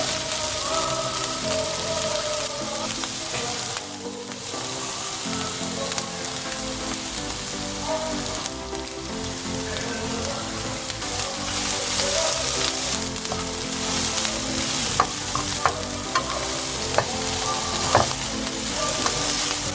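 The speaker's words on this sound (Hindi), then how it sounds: "ये देखें, ये हमारी सब्जियां सौते होना शुरू हो गई हैं।" Vegetables seasoned with black pepper, soy sauce, chilli sauce and salt sauté in a pan for barbecue rice, giving a loud, steady sizzle and crackle with occasional stirring scrapes.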